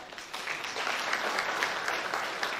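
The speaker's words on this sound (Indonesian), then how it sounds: "Tepuk tangan atas rata-rata." A church congregation claps together during a Christian sermon, a full, steady wash of applause that lasts for nearly three seconds.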